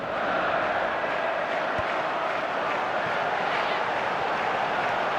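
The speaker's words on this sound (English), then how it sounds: "that's the response the crowd were looking for, Peter, and it's applause all round us here" A stadium crowd in a football video game keeps up a dense, steady roar of applause and murmuring, loud and continuous throughout with no clear breaks.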